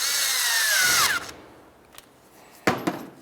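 A power tool whirs for about a second while snugging a fog light mounting bolt on a 2006-2012 Toyota RAV4, winding down, followed by a few light clicks and knocks.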